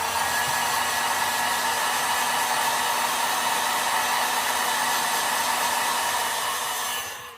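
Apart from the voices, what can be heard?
hair dryer or heat gun heat-setting paint on a fishing lure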